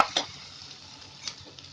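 Spinach frying in a pan for dal palak gives a soft, low sizzle, with a few light stirring scrapes and clinks near the start and again later, quiet and close.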